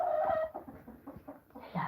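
Hens clucking close by, a run of quick, low, rhythmic clucks with a louder squawking call at the start and another rising at the end, no talk.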